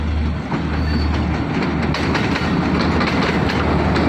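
A train rolling past without stopping, loud and close, with a constant heavy rumble and rhythmic clickety-clack of wheels on rails throughout.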